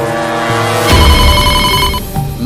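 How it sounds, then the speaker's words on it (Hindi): A telephone bell rings from another room in an animated horror story: a steady ringing tone that turns into a louder, rattling burst partway through and keeps going to the end. "अचानक मुझे दूसरे कमरे से टेलीफोन की घंटी बजने की आवाज आती है।"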